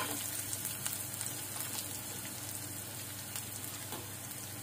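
Sliced onions frying lightly in a pan for Indori poha, with a steady close sizzle and occasional crackles and stirring scrapes.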